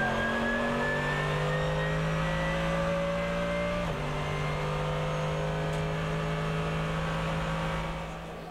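Porsche race cars scream past during the Nürburgring 24-hour race, engines wailing loudly as they approach and then drop in pitch as they pass, followed by a sustained roar that slowly fades.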